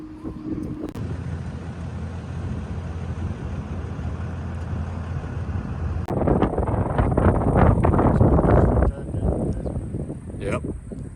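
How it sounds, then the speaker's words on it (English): Strong wind buffets the microphone at Crater Lake, a steady roaring rush that surges louder and more violently toward the end, with no clear voices above it. "Really windy up here."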